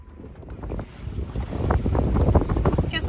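A small sailboat with no motor moves under sail, with gusty wind buffeting the microphone and water sloshing against the hull, growing louder and rougher after the first second.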